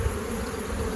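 Honey bees on a hive frame, with pollen coming in and a scattered brood pattern: a dense, close, continuous buzzing hum that fills the whole moment, steady and without voices.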